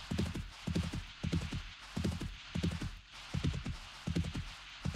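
Horse hooves galloping in 7 Days to Die, a fast repeating clip-clop pattern of grouped hoofbeats, steady and close throughout with no talk.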